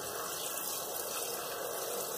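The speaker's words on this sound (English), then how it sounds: "We'll put some water in here." Tap water pours steadily into a blender for a smoothie, a continuous close rushing splash that holds even for the whole moment with no talk.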